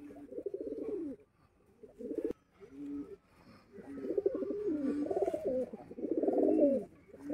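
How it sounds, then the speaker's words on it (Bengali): Close-up pigeons with closed tails give throaty, rolling coos in uneven bursts, with brief pauses between and longer swelling phrases later on. "এই যে চোখ পায়রার,"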